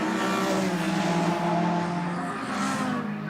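A BMW E46 and a BMW 1 Series race car at Zolder in a 2011 Dutch Supercars race, engines roaring close and loud with a sustained, rising harmonic drone as they pass in a brief burst without speech.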